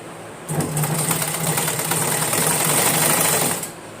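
An electric sewing machine stitching a long frock seam starts up and runs steadily for about three seconds with a fast, even whirring hum, then stops.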